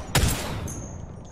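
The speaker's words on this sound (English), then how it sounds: "Shooting at me from somewhere, I don't know where." A short burst of rapid gunfire in the Apex Legends video game cracks sharply. The reverberant tail then fades away.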